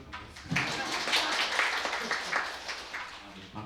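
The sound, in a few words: audience applause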